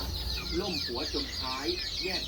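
Pradu chickens on a farm cluck in short, repeated bursts at close range over a steady background hiss.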